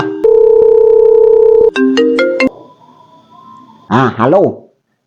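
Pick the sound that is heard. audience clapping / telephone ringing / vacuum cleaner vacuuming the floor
telephone ringing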